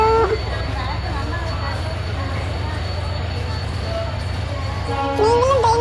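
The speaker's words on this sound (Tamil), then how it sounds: "ட்ரெயின் வந்தாச்சு," A train pulling into a station, its low steady rumble and rhythmic wheel clatter running throughout, with a horn-like tone rising near the end.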